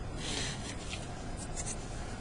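A piece of balsa wood dragged across sandpaper to shape a diagonal cut for a model tower, producing a soft, close scratchy rasp that swells and fades in a few short strokes with no talking.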